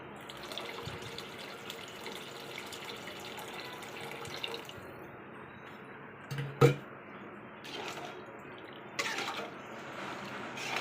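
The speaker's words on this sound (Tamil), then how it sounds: "இப்போ தேவையான அளவுக்கு தண்ணி ஊற்றிக்கலாம்." Water is poured into a pot of village-style fish curry with drumstick and tamarind, a steady soft splashing stream lasting several seconds, faint and close, with a brief clatter partway through and no talk.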